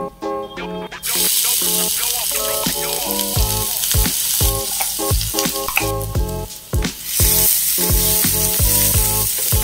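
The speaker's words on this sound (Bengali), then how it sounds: "এবারে এর মধ্যে একটা পেঁয়াজ আর রসুন কুচি করা আছে, এটাকে আমি তেলে দিয়ে দেব" Chopped onion and garlic hit hot oil already tempered with cumin for a bottle-gourd kofta curry, bursting into a loud, steady sizzle after a quieter first second, with tonal background sound running underneath throughout.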